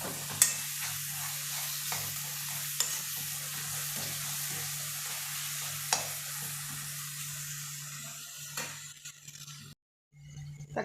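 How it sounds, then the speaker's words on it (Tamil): Chopped tomatoes sizzle in a pan for a green peas kurma, a steady soft frying hiss broken by occasional spoon stirs and scrapes against the pan over a constant low hum, ending in a brief silence before the sizzle returns. "தக்காளி வந்து நல்லா வதங்கிடுச்சு."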